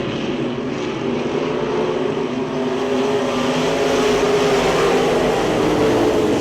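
Race cars lapping a speedway track at a Speedzone race, a loud continuous engine roar from several cars that swells gradually as they draw nearer, no voices.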